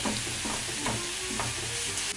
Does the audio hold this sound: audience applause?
no